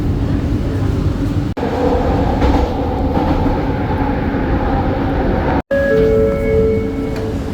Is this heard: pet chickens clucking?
no